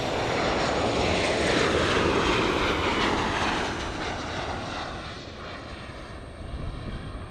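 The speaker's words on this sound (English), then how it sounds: "737 American Airlines touching down" An American Airlines Boeing 737 touches down at LAX, its broad jet engine roar loud and steady before easing off to a lower rush as the aircraft rolls out.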